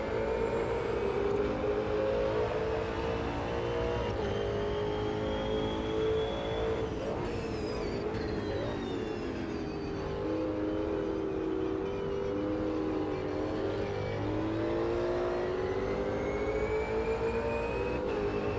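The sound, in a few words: Ultima GTR race car engine in Automobilista 2 video game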